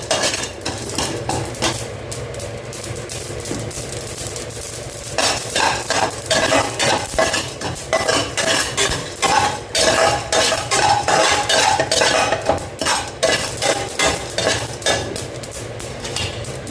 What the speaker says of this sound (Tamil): கடலைப்பருப்பு கருவேப்பிலை எல்லாமே நல்லா பொரிஞ்சிடும்